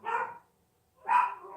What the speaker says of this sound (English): my doggies are barking.